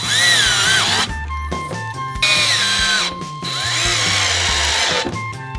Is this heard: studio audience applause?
no